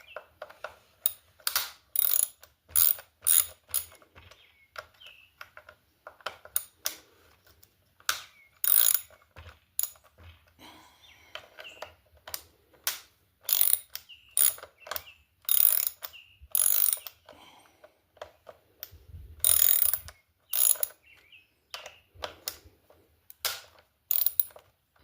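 Ratchet clicks loosening Torx 25 screws on a riding mower with an RS800 transmission, coming in quick bursts of close, crisp ratcheting separated by short pauses, with no talk.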